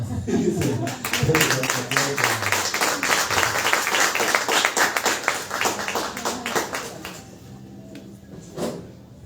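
Audience applause at a book presentation in Honduras, a crowd clapping steadily for several seconds before thinning out and fading, with voices mixed underneath.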